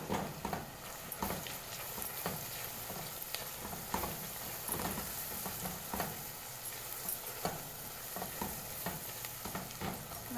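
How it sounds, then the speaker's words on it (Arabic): Coriander toasting with onions in a pan for stuffed vegetables, a steady close sizzle under repeated scraping stirs that come in an uneven rhythm throughout. "انا بحب الكزبره احمصها مع البصل"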